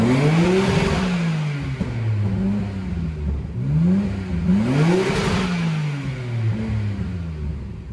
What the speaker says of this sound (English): so let me rev it up and see if everything is working good.